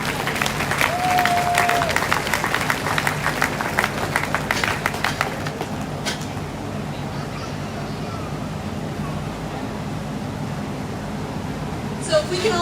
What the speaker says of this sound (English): So if we can all give these guys a huge round of applause